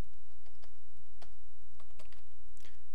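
Typing on a computer keyboard, a quick irregular run of close, crisp key clicks with no talking.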